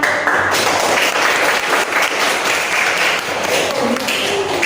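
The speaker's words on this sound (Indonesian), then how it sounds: "Beri tepuk tangan." Classroom applause from students after a group presentation during a problem-based learning guidance lesson, a dense, steady wash of clapping that fills the whole stretch at close range.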